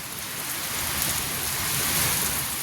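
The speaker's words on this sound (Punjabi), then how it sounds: "ਕਿੰਨੀ ਤੇਜ਼ ਬਰਸਾਤ" Heavy monsoon rain pours down in a dense, even hiss of drops drumming on surfaces, loud and steady without a break.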